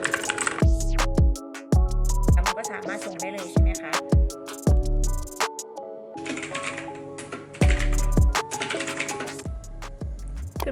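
Rapid, loud clacking of keys typed on a new computer keyboard, in uneven bursts, with a voice speaking over part of it.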